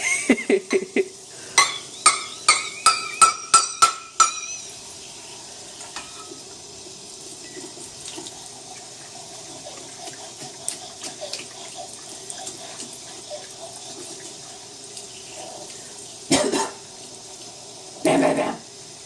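Water splashing and dumping in a kitchen sink, a burst of rhythmic clattering slaps at first, then a quieter trickle with a few later splashes and gushes, with people talking.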